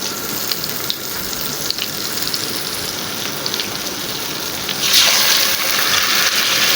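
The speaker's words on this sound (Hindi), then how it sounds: "ये मैं इसमें पानी क्यों डाला, ताकि मेरा मसाला जले नहीं" Water hits hot masala frying in a pan for a Hyderabadi shahi korma, a steady crackling sizzle that swells sharply louder and brighter near the end as the liquid goes in.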